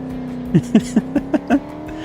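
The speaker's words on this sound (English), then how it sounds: "Just an engine." A car engine idles steadily in the racing game BeamNG, with a run of six quick, evenly spaced rev blips punching over the low hum.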